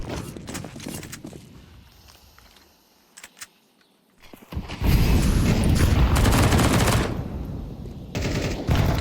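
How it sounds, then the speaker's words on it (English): Rapid MP9 submachine gun fire in the shooter CS2 (Counter-Strike 2), scattered sharp shots and footsteps early, then a loud sustained stretch of automatic fire and chaotic combat noise that continues to the end. "the fact that he's shooting MP9 here"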